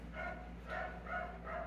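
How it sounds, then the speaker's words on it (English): Several dogs bark in the Philippines, three or four muffled yips spaced roughly half a second apart, moderately distant over a steady low background hum. "Please excuse the fucking dogs barking,"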